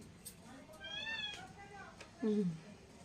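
A cat meows a couple of times, a drawn-out cry followed by a shorter, louder meow, close by in a quiet room.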